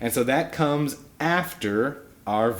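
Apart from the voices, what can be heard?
No everyday noise stands out behind the speech.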